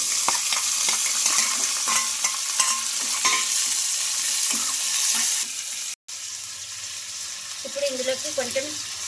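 Chopped onions and tomatoes added together to hot oil in a pan for a rice breakfast dish sizzle and fry steadily, with stirring scrapes, a brief cut near the middle and a faint tonal hum toward the end.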